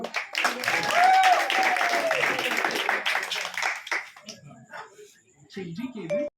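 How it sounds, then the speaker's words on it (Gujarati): A crowd at a children's fancy-dress gathering breaks into applause, a few seconds of moderate clapping mixed with talking voices, then quieter chatter with a dog whimpering briefly near the end. "ખૂબ ખૂબ તાળીઓ"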